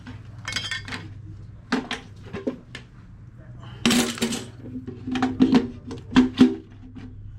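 Aluminium legs of a folding fishing chair are pushed and clicked into their sockets, giving a few light metallic clinks and knocks close by, with someone talking between them.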